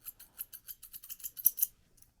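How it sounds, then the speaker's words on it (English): Thinning shears snip steadily at a Coton de Tulear's stained facial hair, giving about a dozen crisp, quiet close-up cuts in even rhythm before stopping. "I'm going to take my thinning shears blenders, and I'm going to blend some of this area that's a little stained"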